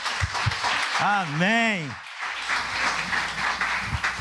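A church congregation breaks into applause, a dense wash of clapping that follows a single voiced exclamation and carries on steadily to the end.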